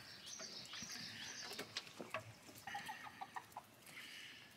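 Several chickens cluck and chirp nearby on a farm at feeding time in short, irregular bursts, some calls overlapping, with no talking.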